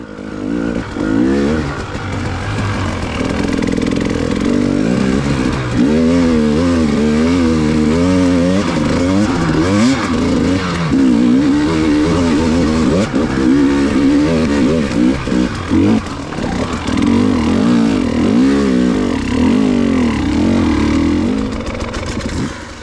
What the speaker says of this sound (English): Just working the clutch a little bit to hold the bike in line and keep the front end on the ground